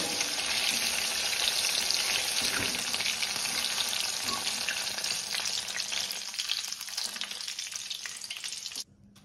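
Mushrooms frying in hot oil for a mushroom duplex, a steady dense sizzle and crackle filling the whole stretch, close and loud, cutting off abruptly near the end.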